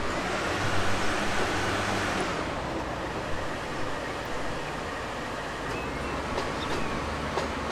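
A train in the video game Transport Fever 2 rumbles along steadily with a broad mechanical roar, the noise easing slightly after a couple of seconds, no voices.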